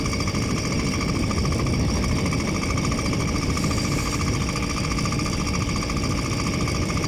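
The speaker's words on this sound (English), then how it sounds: "The clutch is starting to sound noisy again." Motorized bicycle engine on a winter cross-country ride, a loud, rapid, steady buzzing drone with a clattering mechanical rattle from a noisy clutch, constant and close throughout.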